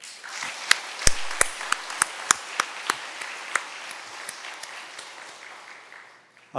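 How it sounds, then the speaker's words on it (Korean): A church congregation at a Sunday service gives a welcoming round of applause for a family back from America. Sparse, loud individual claps ring out over a dense patter of hands that slowly fades. "환영 박수 한번 하시죠"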